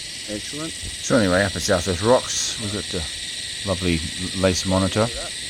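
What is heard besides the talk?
cicadas chirping at South West Rocks, Australia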